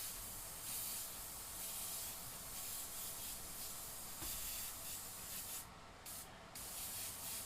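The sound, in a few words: airbrush misting paint for a skull texture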